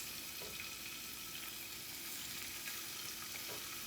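Scallops sear in a hot pan with a steady, close sizzle and crackle of frying that runs unbroken from start to finish, with no voices over it.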